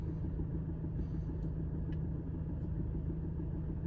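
A Subaru Legacy car engine idles at a steady, low rumble, constant and even throughout with no talking.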